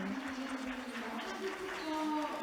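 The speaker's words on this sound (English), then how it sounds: "Please give him a big round of applause again." Conference audience applause, a soft wash of clapping from a hall, with voices and tones mixed in under it.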